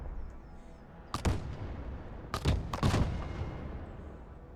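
Laser-designated smart munitions artillery strike in Broken Arrow, three sharp, heavy impacts landing in quick succession over a low battlefield rumble, with no voices.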